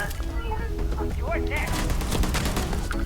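Rapid zapping shots from the Short Circuit laser weapon in Starfield crackle continuously in a dense stream, with someone talking over them throughout.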